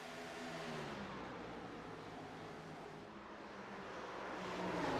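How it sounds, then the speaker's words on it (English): V8 race cars in a sim racing game at Iowa Speedway roar at sustained high revs near 10,000 RPM, a dense steady engine drone that swells louder toward the end, with no voices. "He's going to put it through the floorboards as these V8s come screaming gloriously"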